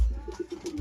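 A pigeon gives soft, short coos in a quick rhythm at its feeding spot, close by and fairly faint, with a louder low rumble of handling or movement at the end.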